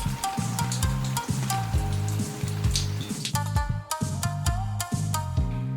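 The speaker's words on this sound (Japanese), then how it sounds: "環境音は雨です。" Rain ambience in an Animal Crossing room, a steady patter of falling rain playing continuously throughout, layered with soft, repeating game music tones and no voices.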